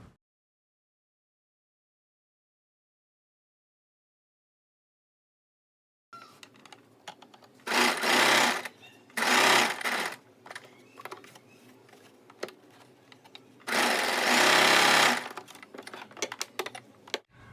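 A sewing machine stitching buckram onto a sleeve pattern runs in short loud bursts after several seconds of silence, with a whirring rattle close up and brief pauses between runs.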